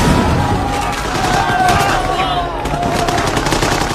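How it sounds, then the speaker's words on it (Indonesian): A film shootout pits armed gunmen against villagers who hold only primitive weapons. Loud, sustained, rapid gunfire rattles in dense overlapping bursts with no pause. "Baku tembak antara senjata melawan warga paguyuban Kopet"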